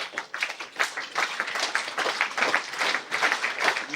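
An audience at a school prize distribution ceremony applauds, a dense, steady wash of many hands clapping, somewhat distant and moderately soft.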